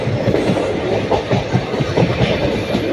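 A moving train from Karur to Puducherry rumbles steadily with rhythmic clickety-clack of wheels on the rails, loud and close, with no voices.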